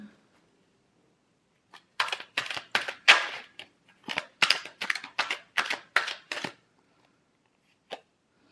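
A deck of tarot cards is shuffled in a string of crisp, rapid riffling snaps, about a dozen quick bursts close to the listener, followed by a single tap in an otherwise quiet room.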